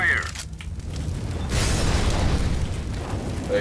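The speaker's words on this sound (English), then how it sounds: "that's just a little tap run throw with the Molotov" A Molotov cocktail bursts into fire in a video game, giving a muffled whoosh and a sustained roar of flame over a low rumbling background, with a brief faint chime at the start and end.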